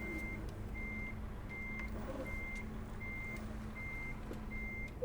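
Evenly spaced reversing beeps from a MAN TGX truck in Euro Truck Simulator 2, seven steady tones over a low engine rumble, no talking.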